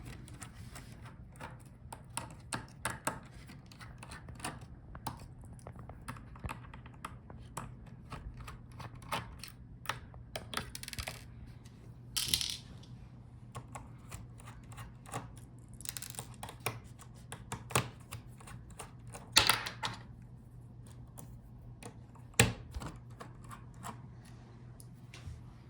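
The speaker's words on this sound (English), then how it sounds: "And now take out these screws." Screws being removed from an Acer Nitro 16 laptop during a teardown: quiet, scattered small clicks, ticks and scrapes at close range, with a few sharper knocks.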